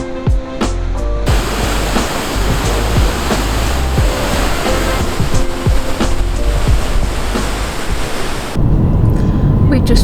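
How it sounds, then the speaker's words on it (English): A roaring waterfall in Iceland pours continuously, a loud, dense rush of cascading water with a few scattered knocks and splashes close by. "the rapid power of the waterfall that's just cascading all these bits of water everywhere"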